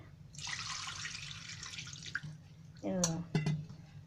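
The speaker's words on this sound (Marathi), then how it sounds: "एकदम स्वच्छ धुवायचं, एकदम सफेद होईपर्यंत" Chicken pieces rinsed under a running tap, a steady broadband rush of water for most of the clip, then a few louder splashes and clatters near the end.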